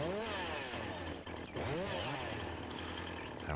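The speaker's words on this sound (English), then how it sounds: "So we know our chainsaw." A chainsaw in the Farming Simulator 19 video game buzzes loudly and continuously, its pitch rising and falling as the throttle is revved, with a brief dip midway.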